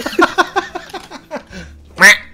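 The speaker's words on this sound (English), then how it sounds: "Yep, it's a duck doorbell." Duck quack doorbell in the Roblox game Lumber Tycoon 2 sounds a rapid run of close, loud nasal quacks followed by a final louder quack, with faint voices in the background.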